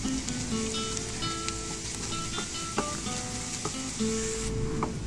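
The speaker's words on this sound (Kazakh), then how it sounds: "Осылайша қуырып," Chopped onion and carrot fry in a pan, with a continuous close sizzle and occasional light clinks of stirring, and no talking.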